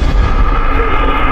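An explosion goes off with a loud, heavy boom that fills the moment and rumbles on without pause, with no voices over it.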